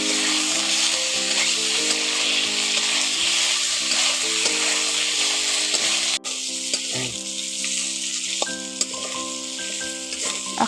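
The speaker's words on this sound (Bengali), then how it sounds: "আদা রসুন বাটাটা এর সঙ্গে দিয়ে একটু ভালো করে আবার কষে নিচ্ছি" Ginger garlic paste frying in a potol and potato curry, a loud continuous sizzle with stirring that drops slightly partway through, close and steady with no speech.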